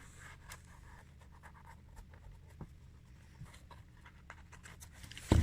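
A pen or marker scratches close by on a shoe, drawing a line around a nail in short faint strokes, with a louder bump right at the end.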